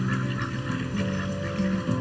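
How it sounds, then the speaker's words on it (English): Ducks and geese call from a wetland near Anchorage, Alaska, a dense, continuous chorus of quacks and honks at moderate distance. "Over 130 species of migratory birds feed and nest here."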